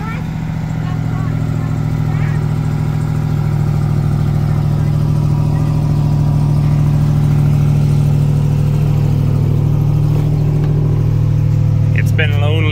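A truck engine idles steadily after a three-week cold start, a loud, even low rumble throughout with voices faintly underneath.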